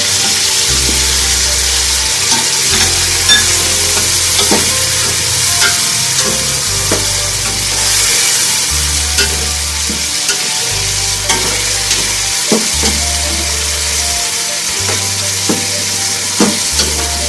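Tomatoes frying in a pan for a meatball curry, a loud steady sizzle throughout with scraping stir strokes and occasional clinks, close up, with a low recurring hum in the background.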